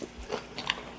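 Crunchy bites and chewing of a spicy, tangy gizzard shad salad with crisp vegetables, a few close, short crunches within about a second, with no talking.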